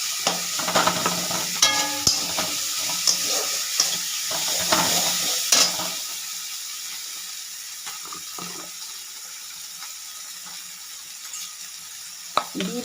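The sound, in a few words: ginger garlic paste frying in pan for pomfret curry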